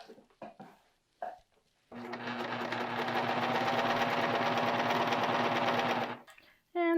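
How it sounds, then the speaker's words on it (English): A sewing machine stitches a long sleeve into a garment body in one steady, rapid run of about four seconds, close by, with brief clicks before it and a voice talking before and after. "And start sewing."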